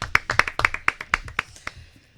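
A handful of sharp, separate claps from a studio audience on a talk show, uneven in rhythm and fairly close, thinning out and stopping after about two seconds.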